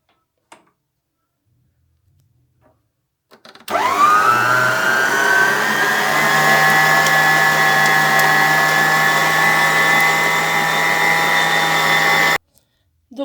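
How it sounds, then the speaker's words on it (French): A stand mixer kneads burger bun dough after a few quiet seconds of small clicks, starting up with a rising whir into a steady loud motor hum with faint rhythmic ticking, then stopping abruptly. "Et je vais remettre à pétrir au moins pendant 10 minutes."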